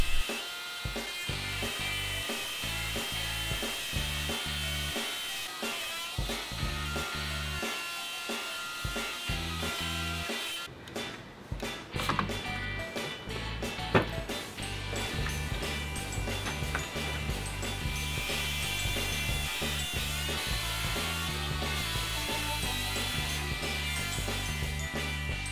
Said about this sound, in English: I could do this a lot faster if I used a plunge router instead, so yeah, that's what I did.